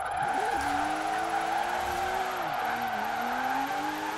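Porsche-engined Subaru WRX STI drifting in Forza Horizon 4, its engine held high in the revs with a sustained droning tone and tire squeal, the pitch dipping and rising as it slides.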